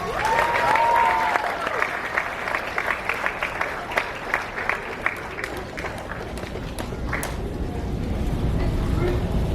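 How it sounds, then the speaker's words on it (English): An audience at a fifth-grade graduation ceremony applauds presidential award winners, a sustained burst of many clapping hands filling the room while a speaker's voice carries over it. "Let's give a round of applause for all of our presidential award winners."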